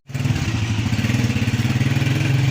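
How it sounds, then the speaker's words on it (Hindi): Honda motorcycle engine starting up and idling close by outdoors on a road, a loud rapid thumping putter that holds steady after a sharp onset. "हुंडा मोटरसाइकिल स्टार्ट आ"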